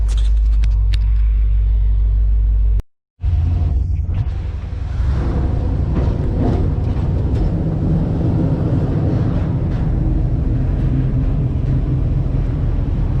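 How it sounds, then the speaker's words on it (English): An eight-cylinder truck running on premium fuel and slightly rough, driving along a road in East Haddam, Connecticut. It gives a steady, close cabin rumble with a brief dropout near the start, and no one speaks. "Truck's running a little bit better, but not much. Still popping a little when I let it off."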